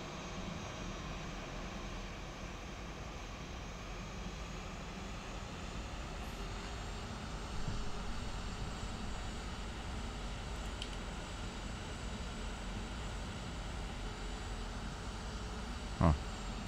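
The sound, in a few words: A320 airliner taxiing in Flight Factor flight simulator game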